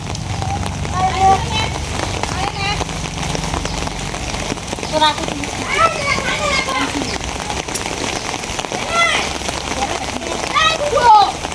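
Rain patters steadily on surfaces outdoors, a continuous hiss with scattered drops, while voices talk and call intermittently over it.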